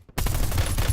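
Dense, loud automatic gunfire in the Black Ops 7 video game, a continuous burst of rapid shots starting abruptly and filling the whole second.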